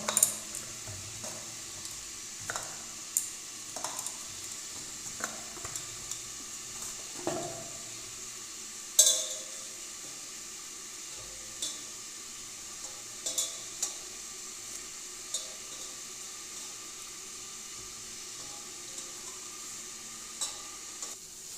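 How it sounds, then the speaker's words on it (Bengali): Kachori vegetable filling frying in a wok gives a steady, quiet sizzle throughout, broken by repeated sharp clicks and taps of a spoon stirring against the pan. "ওখানে কড়াইতে পুরটা হচ্ছে"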